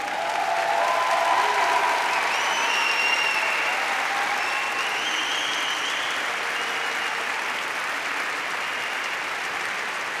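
Sustained, loud applause from an audience at a university graduation ceremony for new graduates, a dense even clapping wash with a few faint whistles or cheers riding on top.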